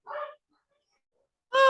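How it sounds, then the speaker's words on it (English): Puppies giving two short yips or barks, one at the start and a sharper one after a silent gap, close by and with no talk. "Oh, you gotta love the puppies."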